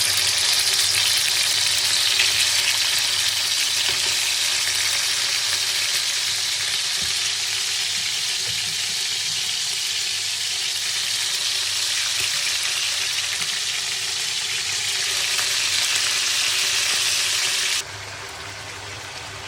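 Seasoned beef steak frying in a pan for a Filipino dinner, a loud, continuous close-up sizzle of hot oil that holds steady throughout, then drops abruptly to a quieter sizzle near the end.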